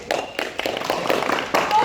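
An audience claps in a youth speaking event, a short patter of scattered handclaps rising slightly, with a voice overlapping.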